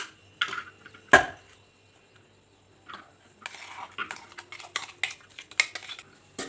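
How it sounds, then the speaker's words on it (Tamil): A spoon scrapes ground lentil paste from a vessel onto a plate in a kitchen, with a sharp metallic clink, then scattered soft scrapes and light taps of cutlery on dishware, close and fairly quiet. "நான் இப்போ இதை ஒரு பிளேட்டில் மாற்றி வச்சுக்கிறேன்"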